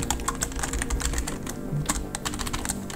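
A computer keyboard being typed on as a serial number is entered, with rapid, dense, close keystrokes clattering steadily through the whole clip at moderate volume, alone without speech.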